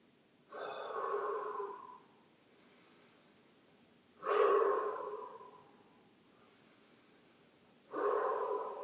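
Breathwork during a sound healing session: three long exhales, each a buzzing, vibrating hum through the nose lasting about a second and a half, separated by quiet inhales, close and clear.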